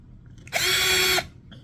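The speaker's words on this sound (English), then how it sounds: "So I'm gonna drill more pilot holes." A power drill bores a pilot hole into a broken Walmart desk during a repair makeover, a single loud, close whirring burst of about two-thirds of a second that starts and stops sharply against a quiet room.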